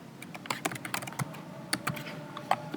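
Rapid, close keystrokes on a computer keyboard as text is entered into an HTML form, with irregular clicks and no talking.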